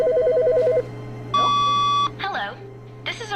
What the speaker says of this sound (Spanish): Ah, está llamando por teléfono.